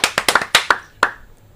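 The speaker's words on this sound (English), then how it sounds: "Golf clap." A short, polite golf clap: about eight crisp, close hand claps in an uneven patter, ending with one last clap that rings briefly before silence.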